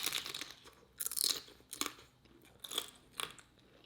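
Chips dressed with lime being eaten with kale dip, giving several loud, close crunchy bites spaced about a second apart, with chewing in between and no talking.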